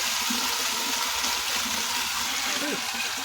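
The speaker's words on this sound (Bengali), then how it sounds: "অল্প একটু জল দেবো, চাপা দেবো।" Water is poured into a pot of taro, potato and prawn curry, a steady gushing splash running throughout under a voice speaking.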